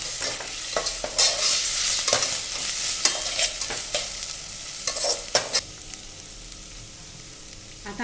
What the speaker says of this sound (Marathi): आता आलं लसणाची पेस्ट टाकायची त्याच्यात एक चमचा आणि मिक्स करून घ्यायचं आहे चांगलं